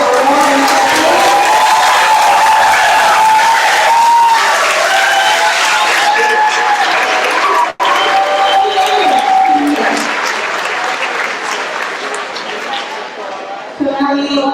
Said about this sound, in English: Can we give a last round of applause to all the well-deserved award recipients?